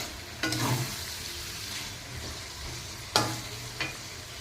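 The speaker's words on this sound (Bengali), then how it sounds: "এটাকে এখন সুন্দর করে কষিয়ে নেব।" Boiled, drained jackfruit is stirred in a pan with fried masala, giving a soft low sizzle broken by a few sharp scraping strokes of the spoon.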